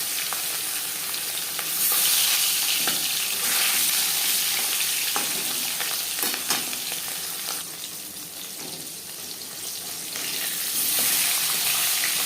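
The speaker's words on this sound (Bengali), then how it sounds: "এবার দিয়ে দেবো ম্যারিনেট করে রাখা মাছ।" Marinated katla fish frying in hot refined oil gives a loud, steady, crackling sizzle that runs throughout, swelling and easing slightly as the pieces settle in the pan.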